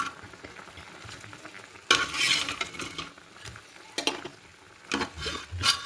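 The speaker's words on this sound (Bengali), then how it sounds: "এখন বড়াগুলা দিয়ে দিন, দিয়া 5 মিনিট জাল দিয়া নামাই নেব।" Soybean fritters go into a vegetable curry cooking in a pan, bringing soft sizzling and bubbling broken by sharp spoon scrapes and clanks against the pot in several loud bursts, heard close with no speech.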